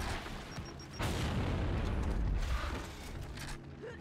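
Grenade blasts from the Gears of War 4 multiplayer beta on Xbox One arrive as a muffled booming rumble with a sharp thud, a sustained low roar and fading debris clatter.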